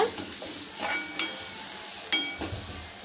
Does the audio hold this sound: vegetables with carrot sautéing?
yes